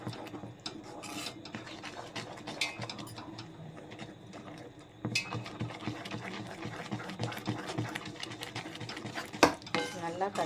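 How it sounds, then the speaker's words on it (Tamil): A spoon scrapes and stirs gram flour in a pan, with soft repeated clinks and rubbing sounds close by at a low level. "கொஞ்சம் கொஞ்சமாக கடலை மாவு வந்து போட்டு கிண்டி விட்டுடலாம்"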